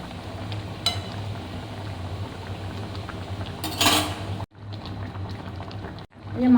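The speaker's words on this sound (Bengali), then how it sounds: "অনেকক্ষণ থেকে মাছটা দিয়ে দিচ্ছি, ভালো করে সিদ্ধ হয়ে যাচ্ছে।" Bata fish curry bubbling in a pan, a low steady boil and simmer with a few utensil clinks and brief stirring noises, then short pauses near the end.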